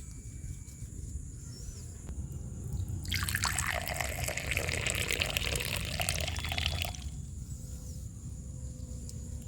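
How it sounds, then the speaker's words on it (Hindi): Water splashes and trickles over a cup being washed outdoors at a jungle campsite, a faint steady background giving way to a louder rush of running water for a few seconds before easing off. "कप को थोड़ा धो लेता हूँ गाइस"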